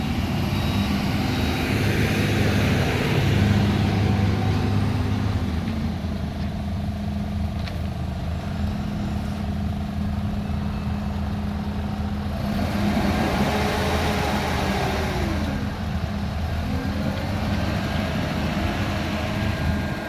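TCM FHG15T3 pneumatic-tire forklift from 2009, powered by a Nissan K21 LP engine, raising its three-stage full-free-lift mast; a steady, loud engine drone with hydraulic whine runs throughout, rising and shifting in pitch mid-way, with no voices.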